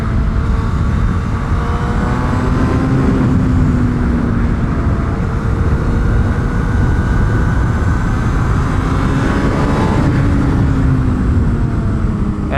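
A 2006 Suzuki GSX-R1000R sport motorcycle engine pulls hard under acceleration, a loud continuous roar with rising pitch sweeps, recorded up close with wind noise.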